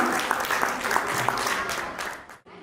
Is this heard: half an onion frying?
no